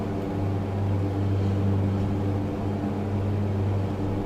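Steady drone of the twin piston engines of a BN-2 Islander in Microsoft Flight Simulator, heard from inside the cabin during a climb, a continuous low hum with a strong tonal buzz and no talk.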